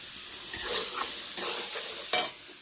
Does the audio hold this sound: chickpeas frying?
yes